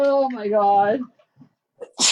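A single sharp sneeze bursts out at the very end, right after a person speaks in a whimpering tone.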